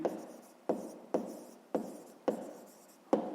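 Pen scratching across paper while a maths exercise is worked out, in six separate bursts each starting sharply and trailing off, close and quiet.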